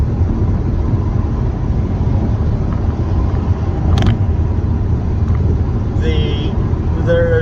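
Car driving on a road at night, heard from inside as a steady low rumble of road and engine noise, with a brief click and some faint tones near the end.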